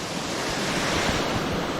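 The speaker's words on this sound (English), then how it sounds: "It's a smaller waterfall, but look at it." A small waterfall at Darnell Creek pours in a steady, dense broadband rush, close and continuous with no pauses.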